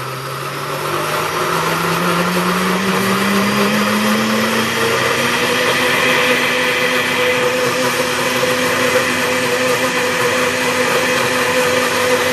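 A blender runs continuously for a green vegan smoothie, a loud steady whir whose motor pitch rises slowly as the blades churn, with no voices over it.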